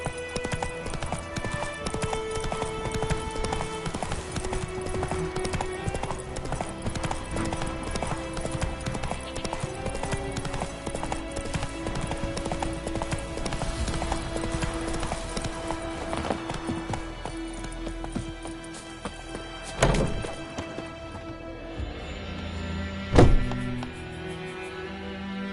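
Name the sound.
horse Roach galloping in the video game Witcher 3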